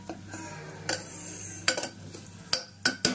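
A metal spoon stirs masala frying in oil in a cooking pot for homemade chole, giving a few sharp, irregularly spaced clinks and scrapes against the pot over a low background hum, with no talking.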